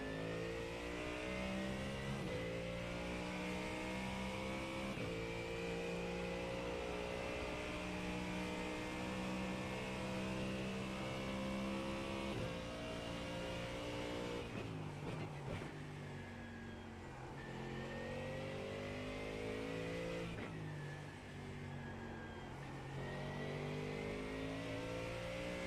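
Simulated race car engine revving hard on the Nordschleife in a racing video game, continuous loud high-revving drone with gear-shift dips and rises, no talk.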